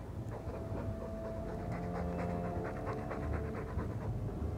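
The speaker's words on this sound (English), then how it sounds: "All that noisy dog breath, day in, day out." A dog panting in Dragon Age 2, rapid rhythmic breaths repeating steadily and fairly quietly against low background ambience.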